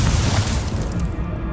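A fire spell bursts in Hogwarts Legacy combat: one loud, dense whooshing blast of flame that fills the moment with a deep rumble and fades slightly at the end.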